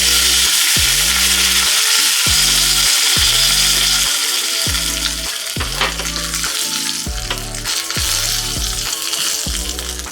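Cumin, asafoetida and curry leaves crackle and sizzle loudly in hot oil as a tempering for drumstick sambar, a dense continuous frying hiss over a rhythmic low pulse.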